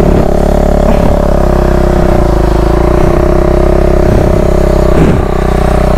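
A KTM Duke 390 or Bajaj Dominar 250 motorcycle engine revving hard while riding off-road, loud and close, with repeated throttle surges over a steady drone.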